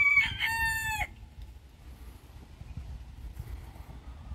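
A rooster crows one loud, close cock-a-doodle-doo near a chicken coop, then quieter rustling and soft farmyard background noise follow.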